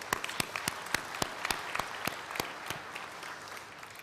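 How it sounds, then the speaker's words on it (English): A graduation audience at a university ceremony applauds a newly awarded PhD graduate, with distinct, fairly spaced hand claps ringing out across a large hall, moderately faint and gradually thinning toward the end. "If we could just give her a round of applause."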